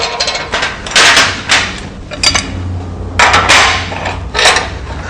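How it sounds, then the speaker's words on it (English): Metal parts of a chopper fork's lower tree clank and knock as they are clamped into a welding fixture, with a few sharp, close bursts separated by quieter gaps. "So I'm clamping the lower tree to the middle station."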